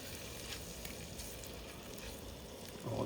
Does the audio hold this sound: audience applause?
no